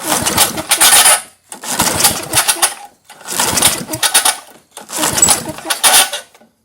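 A 1978 Tecumseh 5HP LAV50 small engine is pull-started four times in a row. Each rough rasping pull lasts about a second, with short gaps between, and the engine never catches.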